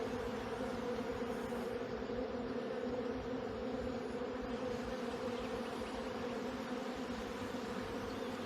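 Dense honey bee buzzing from a crowded acacia honey hive during harvest, a steady close droning hum that holds level throughout with no talking.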